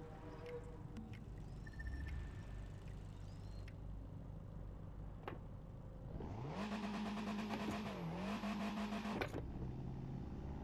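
Fiat 500 Abarth in the racing game The Crew 2, driven with a Logitech G29 wheel and shifter: the engine rises into a sustained high rev, dips briefly, then climbs and cuts off abruptly, after quieter background sounds.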